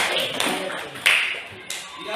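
A classroom breaks into brief applause, a dense patter of clapping hands rising and falling in short bursts while voices carry on over it.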